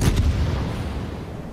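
In World of Warships, a torpedo strikes the Scharnhorst and sets off a heavy naval explosion: one sharp blast followed by a deep, fading boom, with no voices.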